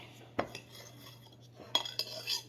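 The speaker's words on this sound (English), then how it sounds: "take my knife and go over it again. Chop it up a little bit more." A kitchen knife chops spinach on a cutting board in a home kitchen: a few sharp, close knocks come spaced apart over a steady low hum, with no talking.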